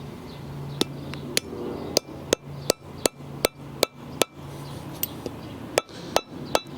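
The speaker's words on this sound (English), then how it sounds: "And use a rubber mallet." A rubber mallet tapping a brake lever bushing into place on a 2024 Harley-Davidson Road Glide, about fifteen sharp, close knocks in an uneven rhythm over a faint background hum.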